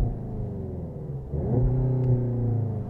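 A 2020 Seat Leon Cupra with a 290 PS engine starts in Cupra mode, a low rumbling idle that rises briefly in a short rev and then settles into a steady, close engine hum.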